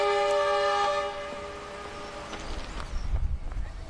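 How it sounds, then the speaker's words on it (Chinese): A red-headed train on a railway in Honghe, Yunnan sounds a long, steady horn blast, then pulls away with a rough, rumbling roll of wheels that grows louder near the end. "好运没拿稳，火车加速，手握笨重的设备，脚踩乱动的石子，以知天命的身体尽力追赶，最终还是被红头火车甩下"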